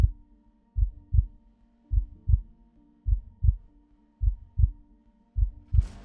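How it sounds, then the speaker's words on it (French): Deep, pounding heartbeat effect: about ten heavy low thuds in loose double-beat pairs, loud and alone over a faint low hum, ending in a brief hiss. "un énorme battement de cœur."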